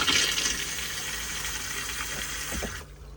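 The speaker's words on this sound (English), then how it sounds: "flush fluid comes in." Flush fluid runs steadily into a Thetford cassette toilet in a Hymer Exsis Silverline motorhome, a continuous close hiss of water that stops abruptly near the end.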